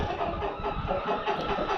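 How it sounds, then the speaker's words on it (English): Chickens clucking inside a chicken house, a steady close chorus of overlapping clucks and murmurs from several birds, fairly loud and continuous with no talking. "I coaxed them into the chicken house with sunflower seeds"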